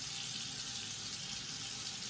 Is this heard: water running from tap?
yes